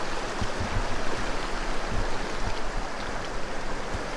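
Continuous rushing water of the Yellowstone River, full and steady, with a low rumble and no voices.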